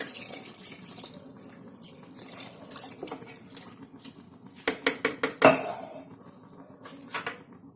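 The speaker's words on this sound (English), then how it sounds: "On top of it, we will put water," Water is poured over diced pumpkin and cooked dal in a cooking pot for a pumpkin curry, a soft running splash with a few clinking knocks of utensils against the pot, close by and fairly quiet, no talking.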